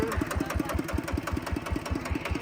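Tractor engine chugging in a rice paddy, a steady rapid knocking beat at even pace, mid-loud and close, running alone without voices.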